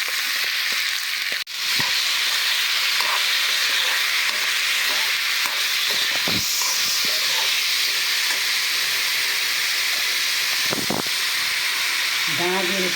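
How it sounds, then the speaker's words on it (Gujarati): Cumin and mustard seeds tempering in hot oil, giving a soft hiss with scattered crackles and sharp pops over a few seconds, close to the pan, while a voice talks at times. "વઘાર કરવાનો છે, ગરમ કરવાનો."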